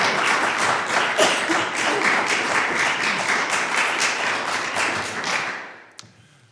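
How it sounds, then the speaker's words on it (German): Audience applause at a barbershop quartet concert in a small culture chapel, steady dense clapping for about five seconds before thinning and fading out, a single late clap near the end. "(Applaus)"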